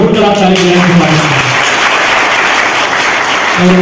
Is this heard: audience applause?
yes